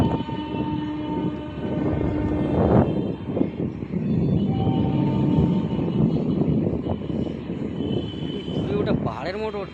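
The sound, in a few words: local train passing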